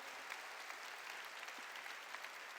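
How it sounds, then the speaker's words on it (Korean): A church congregation claps together during a sermon, a dense, even patter of applause heard from a distance and fairly faint, steady throughout. "박수로 하나님께 영광을 돌려요"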